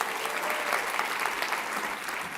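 Sustained applause from an audience at a food and agriculture policy summit, dense even clapping at steady volume with no voices over it.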